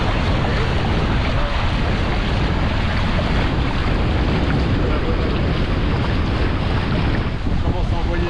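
Catamaran out sailing in gusty wind, with a steady, loud roar of wind and water rushing continuously throughout, broad and unbroken with no clear pauses.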